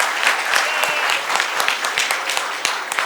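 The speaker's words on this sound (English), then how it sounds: "Give big round of applause." Clapping from the audience welcomes a Japanese guest speaker at an event in Kolhapur, India. The applause is brief and close, with crisp individual claps audible inside a full, steady patter.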